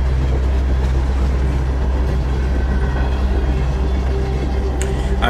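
A train rolls steadily in the Oddworld Soulstorm video game on PS5, its low rumble and rhythmic clatter loud and continuous throughout, with no voices over it.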